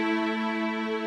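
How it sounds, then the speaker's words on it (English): A perfect fifth: two sustained tones in a 3-to-2 frequency ratio ring together evenly and continuously for about a second, smooth and consonant with rich overtones. "This ratio is what we call a perfect fifth because it's 5 steps up the major scale."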